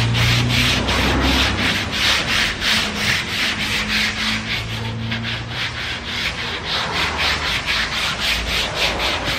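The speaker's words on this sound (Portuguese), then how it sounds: "A gente vai pegar o taco, vai desenhar aqui, apertar para desenhar e vamos começar a lixar" Polyester body filler on a car is hand-sanded with a sanding block, a loud, close, rhythmic back-and-forth rasping of steady strokes with no talk.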